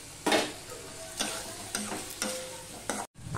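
Prawns, onion and tomato sizzle in a pan while a spatula scrapes and stirs in about five distinct, evenly spaced strokes over a steady, close frying hiss.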